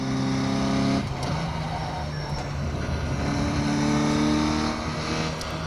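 Race car engine in a virtual reality racing simulator, a loud sustained drone with steady tonal harmonics that shift pitch as the car brakes and rotates through a corner, heard alone and close.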